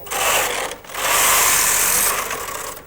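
A Brother KH950i knitting machine carriage sweeps across the needle bed to knit one row, giving a loud, continuous mechanical whirring and rattling with a brief pause partway through, and no talk.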